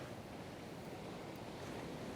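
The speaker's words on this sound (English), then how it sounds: "just had to walk past with the waves" Surf washes steadily onto a sandy beach in the Illawarra during winter fishing, as broadband rushing noise that stays constant and fairly distant, with no voices.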